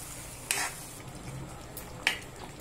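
A capsicum and tomato masala curry gravy cooks in a pan with a low, steady simmering hiss, broken by two sharp scraping clinks of a spoon against the pan.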